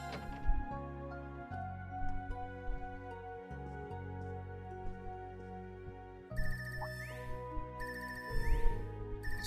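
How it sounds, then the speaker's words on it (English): Phone ringtone in the video game Trails of Cold Steel 3, a looping electronic melody with ringing chime tones over soft game music, clear and alone without talk. "This ringtone, I haven't heard this before."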